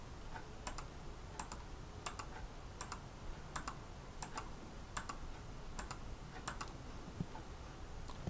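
Scores are entered on a computer keyboard: quiet, rhythmic clusters of key taps repeat at regular intervals against a faint background hum.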